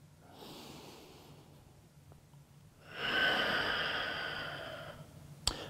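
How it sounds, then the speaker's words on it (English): Slow deep breath during a yoga workout, a soft airy exhale building then holding steady, close and alone without talk, ending with a brief sharp tap. "One more deep breath here."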